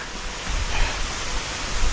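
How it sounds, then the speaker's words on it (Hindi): Steady rain falling during a monsoon trek in the mountains, a dense, even hiss heard close and at moderate level, with no other sounds standing out. "अब देखो बारिश भी आ गई है"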